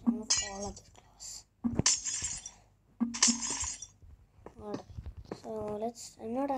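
Glass blocks shattering in a Minecraft-style video game played on a phone: three sharp, bright crashes spaced about a second and a half apart, with someone talking in between.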